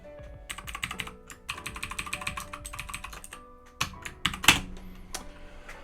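Fingers type on a computer keyboard in quick, uneven bursts of close, crisp clicks. Brief pauses break the run before a few harder, louder keystrokes near the end, with no voices.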